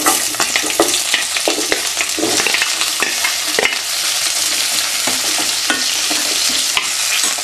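Cumin seeds and chopped onion sautéing in hot oil in a pan for a jackfruit gravy, a dense, steady sizzle broken by sharp clacks of a spoon stirring, continuous and close with no talking.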